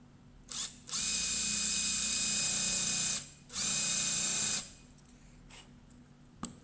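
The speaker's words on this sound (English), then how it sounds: "the first thing I'm going to do is I'm going to drill my pilot hole and my countersink" A power drill whines in two sustained bursts of about two seconds each, drilling a pilot hole and a countersink, separated by a short pause, with small clicks before and after.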